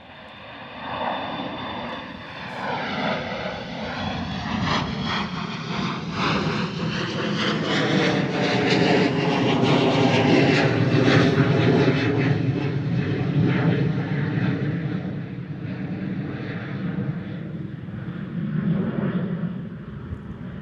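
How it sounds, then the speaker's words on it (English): A KLM Embraer 175 jet departing Bristol Airport for Amsterdam roars steadily, its engine noise swelling to a loud peak midway and then easing slightly as it climbs away, with no talk. "Gorgeous departure from our KLM Embraer 175 heading out to Amsterdam this morning,"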